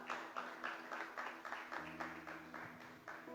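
A church congregation claps in a steady, even rhythm, the beats close and fairly loud with a soft background hum and no talking over it.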